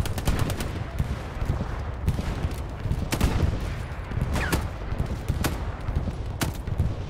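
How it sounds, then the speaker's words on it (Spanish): Dense gunfire in the WWII shooter Hell Let Loose: rapid rifle and machine-gun bursts crackle continuously with sharper close shots standing out, under occasional brief talk. "Dispara, dispara ese arbusto."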